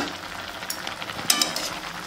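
Banana flower cooks in a pan with a steady soft sizzle and a couple of brief stirring scrapes, close by and moderately loud, with no voices.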